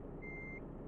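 A Volvo FH16 truck in Euro Truck Simulator 2 gives one steady, clear reversing beep that lasts under half a second, over a constant low engine rumble.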